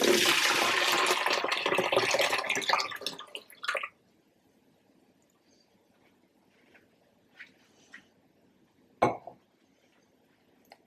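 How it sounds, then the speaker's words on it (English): Steeped tea pours in a dense, splashing stream into a pitcher for a few seconds, then stops, leaving a quiet room with a few faint clinks and one sharp knock. "we are going to pour the steeped tea into our pitcher"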